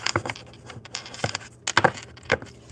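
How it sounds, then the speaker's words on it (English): Tarot cards shuffled in short, irregular riffling bursts, fairly close and clear, with no talk. "So as we shuffle these cards"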